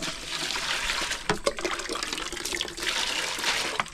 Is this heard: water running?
yes